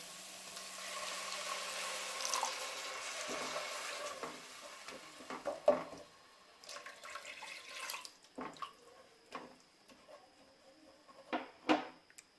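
Water is poured into sizzling spice masala for paneer kofta. A hiss and pouring wash come first, then it settles into scattered quiet stirring scrapes and clinks, faint and close, with no voices.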